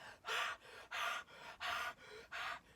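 Heavy rhythmic panting of a dog during play, four or five loud breathy pulses in steady succession, close to the microphone with no talking.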